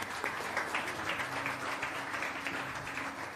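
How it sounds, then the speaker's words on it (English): Audience at a Grade 12 school graduation ceremony applauding the parents: a steady, diffuse wash of clapping from a crowd, heard from a distance and fairly faint, with a low sustained hum beneath. "I think we need to give a round of applause to our parents"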